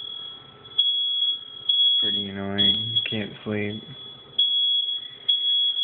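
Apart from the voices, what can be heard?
smoke detector fire alarm beeping at night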